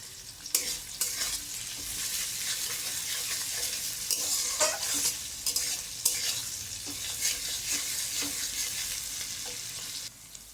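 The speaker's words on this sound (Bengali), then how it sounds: "দিয়ে দিয়েছি একটা শুকনো লঙ্কা পেঁয়াজটা একটু ভাজা হওয়ার জন্য" Onion and a dried red chili frying in hot oil for a prawn and potato curry, with a steady bright sizzle and repeated scraping stirs of a spatula close by, no talk.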